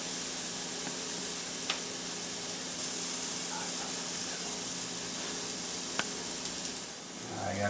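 A burger sizzles steadily in a frying pan, a constant close hiss and crackle with a couple of faint clicks and no talking.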